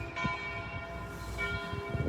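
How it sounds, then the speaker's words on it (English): Church bells ring near the Temple Mount and Dome of the Rock in Jerusalem, with sustained tonal peals and repeated strikes layered into a steady, resonant wash under faint background noise. "Don't you like those bells?"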